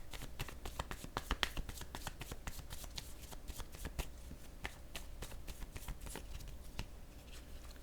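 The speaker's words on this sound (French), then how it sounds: "Je vais déposer une nouvelle carte ici sur ennui." Soft, quick clicks and snaps of cards handled and laid on a table during a card game, a rapid run of light taps at close range, faint and without talk.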